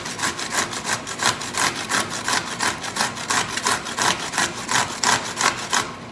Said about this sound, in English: it's getting kind of tough to grate there